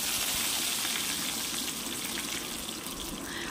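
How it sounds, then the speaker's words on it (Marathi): Mustard seeds and curry leaves sizzling in hot oil in a pan for kande pohe, a dense continuous crackling hiss heard close and steady throughout, without any talk. "शेंगदाणे काढून घेतल्याच्या नंतर आपण तेलामध्ये मोहरी घालून घ्यायची।"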